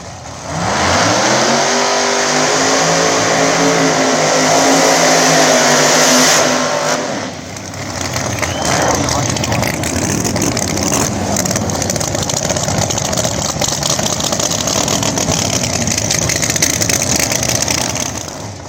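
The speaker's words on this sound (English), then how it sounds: "the old school Camaro with the Nitrous motor. Taking on Blake Hauser over here, the Trans Am with the Pro Charge motor" Pro mod drag cars, an old-school Camaro with a nitrous motor and a Trans Am with a ProCharger motor, roar at a drag strip event with loud revving and rising engine pitch that holds as a continuous heavy blare.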